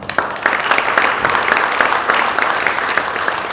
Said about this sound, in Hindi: थोड़ी सी कमजोर पड़ रही है तालियां।